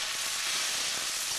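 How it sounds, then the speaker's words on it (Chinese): Food stir-frying in a hot wok gives a steady, bright sizzling hiss, loud and close, continuous for a moment with no voices. "原来是妈妈炒菜的声音"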